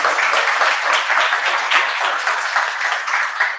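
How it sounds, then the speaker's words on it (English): A conference crowd at CityJS HalfStack Belgrade 2023 breaks into sustained applause for the event's sponsors, a dense, steady wash of many hands clapping at full volume throughout. "can I get a big round of applause for everybody that I just mentioned?"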